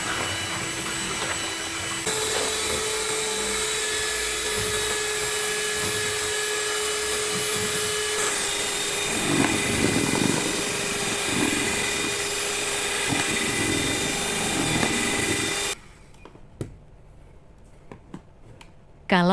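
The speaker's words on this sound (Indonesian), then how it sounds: "semua bahan kita mixer sampai berwarna putih berjejak. Mixer kurang lebih sekitar 10 menit." An electric mixer beats eggs, palm sugar, salt and vanilla with a loud, steady motor whine and whirring hum that runs continuously close by, then cuts off abruptly near the end, leaving scattered clicks and handling noises.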